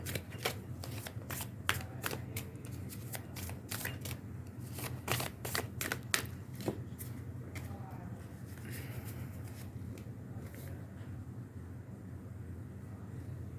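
A deck of cards being shuffled close by: rapid snapping riffles through the first half, then softer handling and drawing of cards over a low steady background hum.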